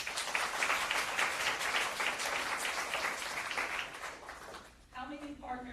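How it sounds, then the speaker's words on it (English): An audience applauds at a leadership talk, with sustained, even clapping from a crowd for about four seconds before it fades, followed by a voice starting to speak. "Let's give them a round of applause."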